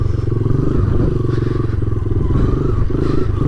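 A motorcycle engine running rough and low while on its back wheel during a wheelie, a loud, close, lumpy drone with some rattling clatter.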